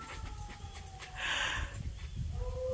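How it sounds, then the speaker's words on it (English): Dogs whimper and yip close by in a quiet room, a short run of soft whines and a brief louder cry with panting, no barking clearly standing out. "forgive the dogs"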